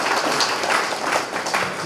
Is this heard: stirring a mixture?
no